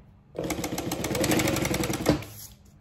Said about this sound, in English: I'm just top stitching those folds I just made.